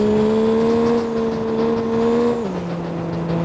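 A rally car in the racing game CPM2 holds a steady, whining engine note at constant revs, then drops to a lower pitch near the end, with no voices over it.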